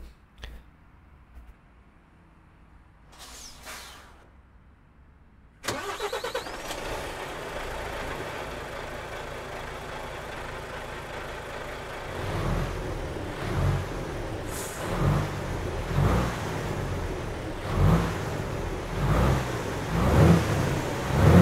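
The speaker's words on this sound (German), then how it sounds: "Wir starten den Motor." An Iveco S-Way truck engine in a driving game cranks and catches after a short quiet stretch, then settles into a rumbling idle with a few revs and hissing bursts toward the end, heard from outside.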